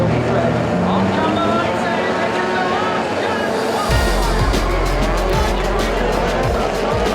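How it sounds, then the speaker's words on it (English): Subaru rally race cars charge through the first corner of a trail rally stage, loud engine roar with tire noise, the low rumble swelling sharply midway as the cars pass close. "Through the first corner, and all Lassick sees are flashes of neon paint ahead"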